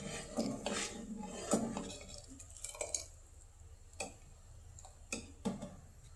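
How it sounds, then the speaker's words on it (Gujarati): A metal ladle clinks against a pot of dal in a home kitchen, several sharp knocks and taps spaced out over a faint background. "ડોયો રાખી દઈશ."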